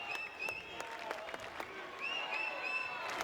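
Scattered clapping, whistles and shouts rise from a baseball crowd at a Kentucky versus Vanderbilt game, sharp individual claps and shrill whistles over a thin murmur.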